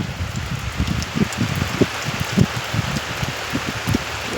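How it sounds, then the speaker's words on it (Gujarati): Heavy rain pours steadily on waterlogged village ground, a dense close hiss with irregular low thuds of drops striking a surface, no voices. "આવો વરસાદ વરસે"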